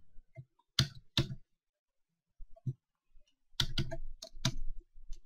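A faulty computer keyboard gives sharp, isolated clicks and a few quick clustered bursts, close and fairly quiet against near silence, with no talk.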